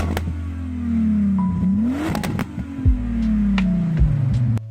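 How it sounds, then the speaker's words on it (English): A Volkswagen Sharan minivan engine revs up and falls back repeatedly, loud and near, with its pitch sweeping up and down through several throttle blips and a low rumble underneath. "I would be okay driving a minivan as long as it sounded like this"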